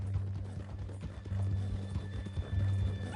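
A horse in Red Dead Redemption 2 walks with steady clip-clop hoofbeats alongside a low rumbling bed of ambient game sound, close and moderately loud throughout.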